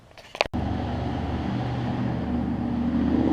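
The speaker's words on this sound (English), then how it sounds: "Loud truck alert." A loud truck passes outdoors, a steady heavy engine roar and drone that holds and slowly builds after a brief clunk at the start, with no talk.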